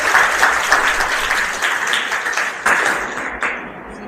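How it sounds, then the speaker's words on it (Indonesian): Workshop audience applauding, a loud, close burst of many hands clapping that stays dense for about four seconds, with a few sharper claps near the end as it begins to thin. "beri tepuk tangan untuk ibu."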